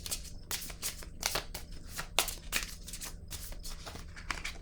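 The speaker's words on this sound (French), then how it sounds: "Je vais prendre une carte rose." Tarot cards are shuffled and drawn by hand, giving a series of quick papery riffles and flicks, close and fairly soft, with no talk.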